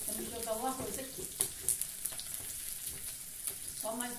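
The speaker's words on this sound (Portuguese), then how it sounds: "Continua aqui fritando, olha, já tá quase pronto a cebola." Rice and onion sizzle quietly in a pan, a soft, continuous frying crackle with occasional stirring scrapes. A voice murmurs faintly at the start and end.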